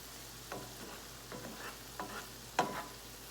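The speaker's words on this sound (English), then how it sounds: "Onions are cooking up to this beautiful golden color." Onions fry to golden in a pan with a faint, steady sizzle, broken by a few soft scraping stirs spaced a second or so apart.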